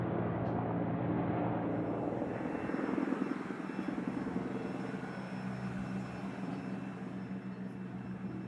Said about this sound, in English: the logs are hooked to a skyhook hanging beneath a helicopter and flown to the landing